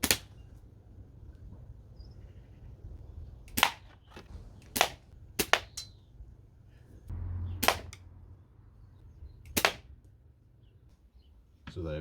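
A restored vintage Diana Model 1 airgun fires several sharp, snappy pellet shots, spaced irregularly and heard close against a quiet room background.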